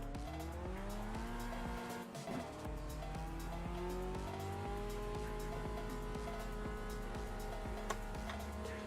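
Race cars in the Automobilista 2 sim racing game, several engines droning and revving together with rising and falling harmonic whine, a brief tire squeal near the start, steady and loud throughout.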